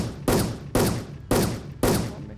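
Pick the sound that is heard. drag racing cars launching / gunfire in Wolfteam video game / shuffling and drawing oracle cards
gunfire in Wolfteam video game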